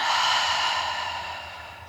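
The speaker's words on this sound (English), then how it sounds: "Take a big inhale through your nose. And exhale, empty it out." A single slow breath drawn deeply in through the nose and let out, close and soft, fading toward the end, no talk.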